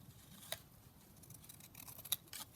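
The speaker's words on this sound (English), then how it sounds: "I'm going to just trim this off." Scissors snip lace trim for a Christmas junk journal, two crisp, close cuts about a second and a half apart over a quiet room.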